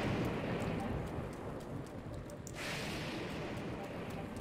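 Thunderstorm rain in Zelda: Breath of the Wild makes a dense, steady wash of rainfall throughout, with a low rumbling bed beneath it.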